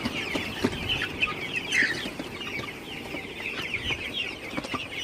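Golden super hybrid chickens cluck and murmur softly at night in a poultry farm shed, a faint, restless chorus of scattered calls with no voices.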